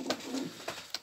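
A Polish show pigeon, a Polish postal show breed, coos softly nearby in a loft, with a few low rolling coos and brief breathy accents, alone and quiet.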